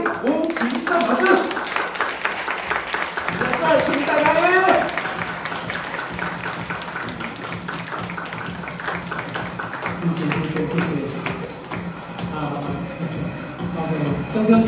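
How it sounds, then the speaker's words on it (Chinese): A seminar audience gives warm, sustained applause to welcome an enterprise director to the stage. Many hands clap steadily throughout while an amplified voice speaks over the clapping. "让我们最快的心情、最热的掌声来欢迎我们的企业总监吴其胜老师"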